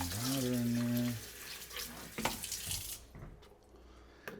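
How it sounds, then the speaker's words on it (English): Water splashing and pouring into a brine shrimp hatching container, a steady rush with a brief tonal hum at the start, tapering off to scattered drips and clatter. "Throw a little water in there."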